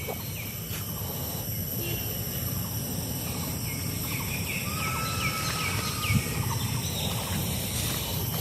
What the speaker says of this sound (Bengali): খুব সুন্দর পাখিদের ডাক